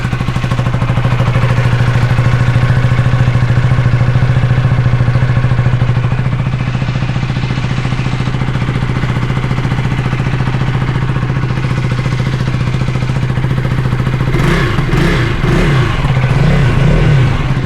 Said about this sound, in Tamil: ரேவ் பண்ணி பார்க்குற பாருங்க